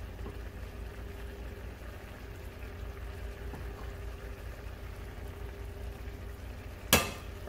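Mozzarella-stuffed meatballs sizzle cheese side down in a pan on lowered heat, giving a steady, soft frying crackle throughout with a brief louder clatter near the end.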